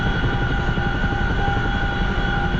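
A CH-47F Chinook tandem-rotor helicopter hovers in the DCS flight simulator, giving off a steady, loud, dense rotor and engine roar with a constant turbine whine that holds unchanged throughout.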